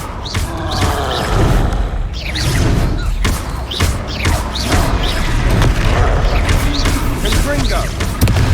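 Confringo fire spell explosions in the Hogwarts Legacy video game: a string of heavy booms and thuds, spaced irregularly over a dense, continuous bed of game sound effects and music.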